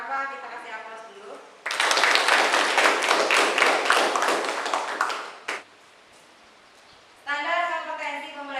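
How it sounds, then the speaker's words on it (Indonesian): Classroom applause, a dense burst of many hands clapping for about four seconds that fades out, with a voice talking before and after. "Kita kasih aplaus dulu."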